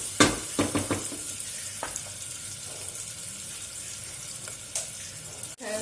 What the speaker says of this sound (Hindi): प्याज डाल, प्याज को थोड़ा सा जो है वो फ्राई करेंगे